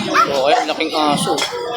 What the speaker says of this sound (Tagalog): So, ayan, laking aso.